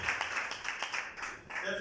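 Applause from guests at a civil wedding ceremony on Friday 20 December 2024: a dense, moderately loud burst of many hands clapping that holds steady for the whole short stretch.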